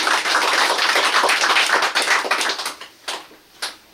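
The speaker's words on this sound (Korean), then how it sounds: "박수 한 번 더 부탁드리겠습니다" Loud, close applause from a group of people at a photo exhibition opening rattles on, then thins out and fades, ending with a few last scattered claps.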